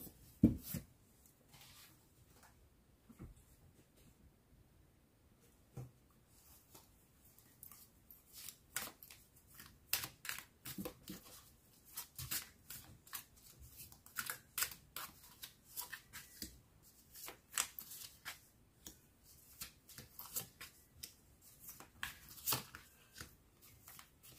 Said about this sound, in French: je vais faire un dernier tirage.